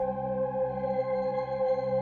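Sustained synth tone processed with a Portal effect carries a steady, held note with subtle shimmering movement, alone and moderately quiet over two seconds.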